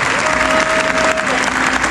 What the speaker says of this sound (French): Et des applaudissements, on veut plus fort que ça, s'il vous plaît.